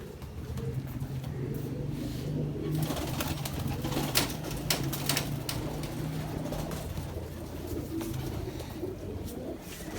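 Ferozpuri pigeons coo in low repeated throaty calls close by, with scattered clicks and rustles over a steady outdoor background and no talking.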